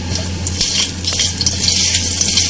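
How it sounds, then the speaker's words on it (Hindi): A spoonful of cumin seeds dropped into hot oil in a pan, crackling and sizzling loudly and close, a dense continuous fizz with sharp pops and a brief stirring scrape, no voices. "ऑयल के अंदर हम 1 चम्मच जीरा शामिल करेंगे।"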